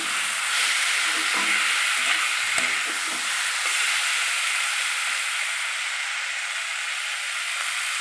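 A spatula stirs poppy-seed dish ingredients frying in a pan, giving a steady close sizzle and hiss with scraping strokes throughout and no talk.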